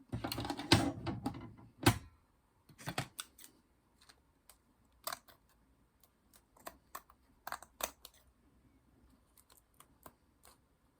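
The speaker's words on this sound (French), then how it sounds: "je vais couper ce qui dépasse" Scissors trim off excess paper in a run of sharp, separate snips. A denser burst of cutting comes first, then spaced single clicks follow with quiet gaps between them. No voices.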